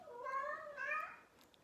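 A cat gives a clear, drawn-out two-part meow, the pitch rising in the second half, close by and alone against a quiet background.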